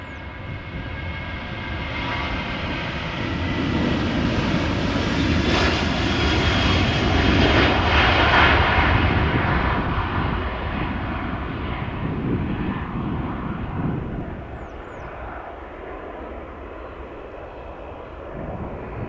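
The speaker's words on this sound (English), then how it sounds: "First, this 737-800 from Corendon Airlines going to Ibiza." A Corendon Airlines Boeing 737-800 jet roars off on departure to Ibiza, its broad engine rumble swelling to a loud peak mid-pass and then slowly fading into the distance, with no talking.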